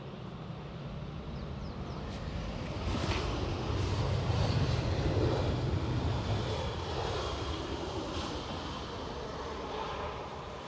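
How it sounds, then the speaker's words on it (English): A jet airliner landing at Edinburgh Airport roars steadily from a distance, its engine noise swelling to a broad rumble midway and then holding with no voices. "this one is definitely landing"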